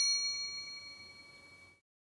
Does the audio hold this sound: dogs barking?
no